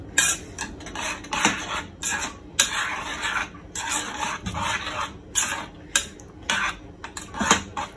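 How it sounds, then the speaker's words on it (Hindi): Prawn curry with yogurt and chili powder is mixed in a pot, a series of close rhythmic metal spoon scrapes and clinks in short bursts against the pot over about eight seconds, with no talking. "अच्छे से भी मिक्स कर देंगे"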